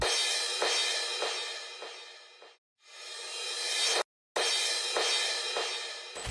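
Sprunki mod character Owakix (Lime) in his normal form gives a loud, dense, buzzy musical loop with steady pulsing beats, broken by two brief silent gaps, with no talking.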